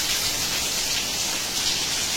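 Steady rain pours down during a monsoon evening in Odisha, a dense, even hiss of falling drops that stays loud and unbroken throughout, with no voices.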